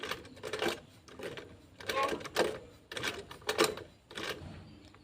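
A sewing machine top-stitches a bag in repeated bursts of rapid mechanical clatter, separated by short pauses, close and fairly loud.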